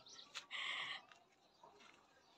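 A chicken in a home garden planted with sugarcane, papaya and mango trees gives a brief clucking squawk, fairly faint against a quiet background.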